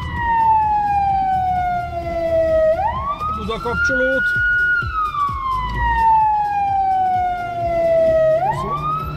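An emergency vehicle siren wails up and down in long sweeping cycles, loud and close, heard from inside the vehicle, with a voice briefly speaking underneath.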